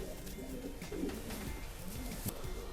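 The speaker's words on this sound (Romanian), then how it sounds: "ce porumbel ai în mână?" A racing pigeon coos in low, rolling murmurs at close range with short repeated phrases, with faint background noise and no clear speech.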